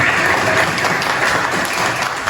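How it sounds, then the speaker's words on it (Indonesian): A group claps together in applause, a continuous even patter of many hands close by with no break. "Beri tepuk tangan untuk kita semuanya"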